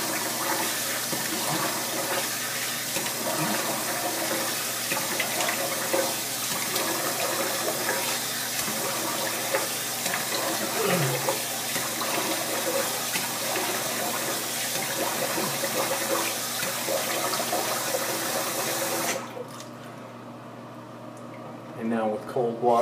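Tap water runs steadily for a rinse after a shave with a Bakelite Slant razor, a continuous close splashing wash that stops near the end, followed by brief quiet and a small trailing sound.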